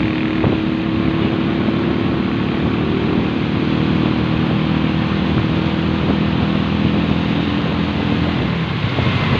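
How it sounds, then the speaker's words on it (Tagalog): Dense, steady engine drone from heavy motorcycle traffic on a Manila road in Quezon City, a continuous loud mix of many small engines and passing vehicles with no pauses and no talking. "Grabe, ang daming motor dito."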